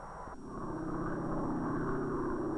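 A steady propeller-engine drone of observation, weather and instrument planes taking off from an island base near Bikini swells in after a brief pause and holds at a constant, loud level.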